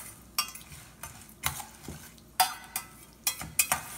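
Chana dal and urad dal fry in hot oil for chickpea sundal, giving a quiet sizzle punctuated by sharp, irregular pops and occasional stirring taps against the pan.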